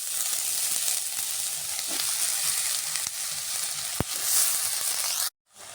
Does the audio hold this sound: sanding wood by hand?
no